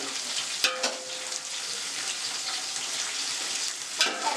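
Green chillies frying in hot oil in a pan for Andhra-style vegetable biryani, with a steady close sizzle and a few brief stirring clinks.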